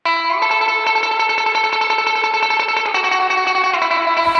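Surf guitar tremolo picked through a Fender amp and cabinet, with a rapid continuous stream of picked notes drenched in effects and reverb, loud and steady and alone.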